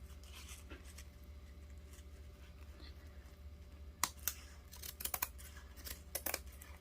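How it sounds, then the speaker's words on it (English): Scissors snip through burlap for a craft journal label, with a few short, crisp cuts clustered near the end over a faint, quiet background hum. "And I'm just going to cut that slightly bigger than my label."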